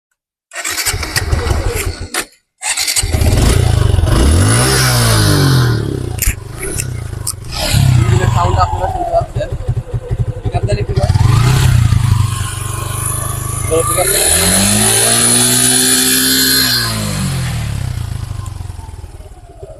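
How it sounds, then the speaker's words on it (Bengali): A 2021 Suzuki Gixxer SF motorcycle engine cranks and catches after a short gap, then idles loud and close and is revved repeatedly in rising and falling surges, with some voices faintly under the engine. "ইঞ্জিনটা স্টার্ট করেন তো ভাই"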